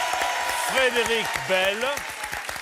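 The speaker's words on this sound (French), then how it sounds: "Je vous demande d'applaudir" Studio audience applauding guests on a French evening television show, a broadband wash of clapping running steadily under a host's voice announcing names.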